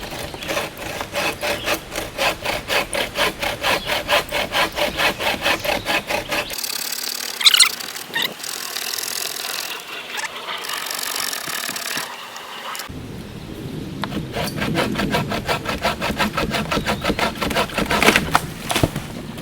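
A homemade bucksaw works through a 4.5-inch oak log with rhythmic back-and-forth strokes, a fast regular run of rasping pulls, then a rougher, squealing stretch with pauses before the steady strokes resume.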